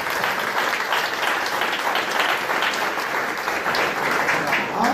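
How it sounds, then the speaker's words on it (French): A church congregation at a Sunday worship service in Dakar claps loudly and continuously, a thick roar of applause with some crowd voices mixed in. "Applaudissez pour Jésus."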